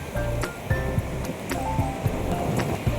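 Sea waves wash onto the beach at Bakkhali, a close, continuous rushing surf with soft splashes and thuds of water breaking through it.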